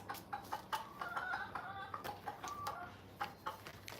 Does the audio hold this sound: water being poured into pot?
no